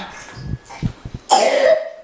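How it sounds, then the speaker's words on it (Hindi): A child coughs several times in quick, harsh bursts, followed by a short, higher-pitched vocal sound. "देखो कितनी जोर से खांसी हो रही"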